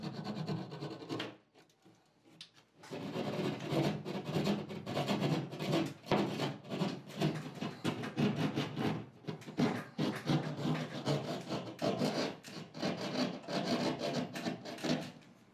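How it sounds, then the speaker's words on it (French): Steady rhythmic rasping of a plasterboard hand saw cutting plasterboard, fast back-and-forth strokes after a brief pause near the start, close and continuous. "Travaillez avec la scie pour plâtre enrobé toujours du milieu vers l'extérieur."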